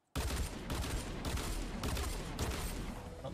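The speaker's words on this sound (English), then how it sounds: "I'm just gonna follow these gunshots here." Loud, rapid video game gunfire blasts continuously, a dense barrage of shots with brief dips in rhythm, close and overwhelming.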